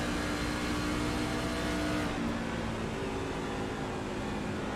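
A racing truck engine in the iRacing game at Homestead-Miami Speedway drones loudly, easing off the throttle partway through so the roar softens and drops in pitch as the truck runs through a turn.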